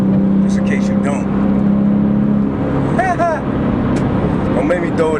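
Turbocharged car engine roaring while driving in heavy rain, a steady loud drone with a low hum throughout and talk over it.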